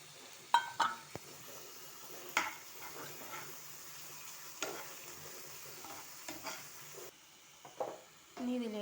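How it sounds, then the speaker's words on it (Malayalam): Chopped onion stirred in hot oil in a pan, with a soft steady sizzle and occasional utensil scrapes and clinks, all fairly quiet and close. "എണ്ണ ഒന്ന് ചൂടായി വന്നതും അതിലേക്ക് നമ്മൾ കട്ട് ചെയ്ത് വെച്ചിട്ടുള്ള സവാള ചേർത്ത് കൊടുക്കാം."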